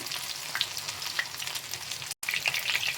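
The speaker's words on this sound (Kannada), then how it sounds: "ಒಂದು ಸೈಡ್ ಫ್ರೈ ಆದ ನಂತರ ಇನ್ನೊಂದು ಸೈಡು ತಿರುಗಿಸ್ಕೊಳ್ಳೋಣ" Mint-coated fish frying in an oil-filled pan, a steady close crackling sizzle throughout with brief sharper pops, interrupted by a momentary gap.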